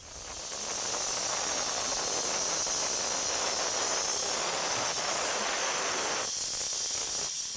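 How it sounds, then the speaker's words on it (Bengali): A pressure cooker on a home stove vents loudly after a whistle, cooking a raw meat curry; harsh, steady hissing steam swells in over the first second and holds close and strong, then changes tone near the end. "প্রেশার কুকারে সিটি দেওয়া হয়ে গেছে"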